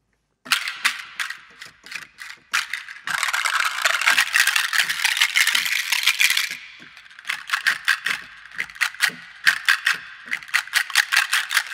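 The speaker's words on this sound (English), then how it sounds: "Some different shakers here." Various shakers from the Dark Era sample library play in turn, first as short rattling bursts, then a sustained continuous shake, then crisp rhythmic rattles.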